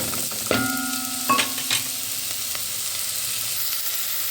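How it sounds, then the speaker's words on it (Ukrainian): Hunting sausages sizzle in a pan with a steady frying hiss, broken by a few clinks and scrapes of stirring and a ringing metallic tap, with no voices. "Тепер додаємо секретний мій інгредієнт мисливські ковбаски. І також обсмажуємо."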